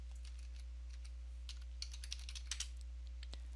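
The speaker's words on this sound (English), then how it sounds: "Now we want to do is type in attributes." A few light, close keystrokes on a computer keyboard as a command is typed into Windows 10, scattered over a steady low electrical hum, quiet and without speech.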